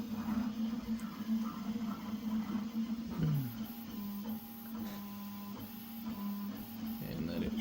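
A Prusa XL multi-tool 3D printer running after a filament runout, with a steady mechanical hum and shifting motor tones as the extruder ejects the filament, close and continuous throughout.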